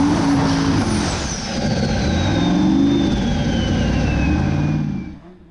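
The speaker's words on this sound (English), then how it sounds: "we have Haukur Þorvaldsson driving the Soap, the only car that still uses a carburetor. The different sound is because of custom headers" Formula offroad car at an Icelandic competition in Akureyri, carburetted engine with custom headers, roars loud and steady throughout, its pitch rising and falling as it revs, with a long falling whine over it before fading at the end.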